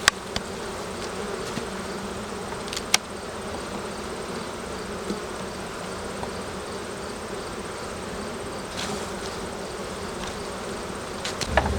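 A constant, even drone of many honeybees buzzing close by around a hive as frames are removed, with a few louder individual passes and light knocks now and then.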